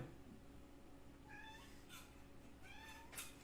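Cats give two soft, rising meows about two seconds apart, faint and fairly close over a quiet background hiss, with a few light clicks between them.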